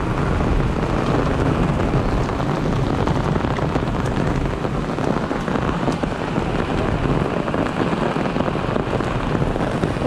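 Heavy rain mixed with hail pours steadily down in the forest near Rudranath during a red-alert storm, a dense, unbroken hiss of close, loud drumming that holds evenly from start to end with no voices.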